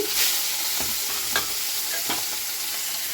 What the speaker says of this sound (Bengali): ডোরাট মাছটা আমি ভাজাও বসিয়ে দিচ্ছি